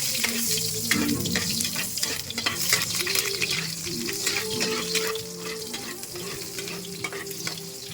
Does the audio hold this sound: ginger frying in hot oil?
yes